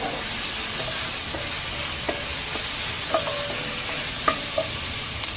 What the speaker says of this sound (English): all this is being stirred in with preheated oil from the chicken that we fried here a little